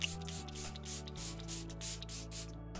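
Repeated short spritzes of makeup setting spray misted onto a face, about eight quick hissing bursts in an even rhythm over a steady low hum.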